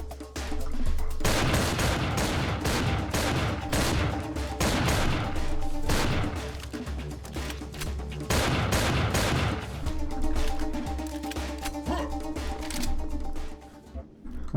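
Rapid automatic weapon fire in Serious Sam 3: BFE rattles on in long, loud bursts with brief pauses. Booming impacts and a low engine-like drone run underneath, and the shooting fades near the end.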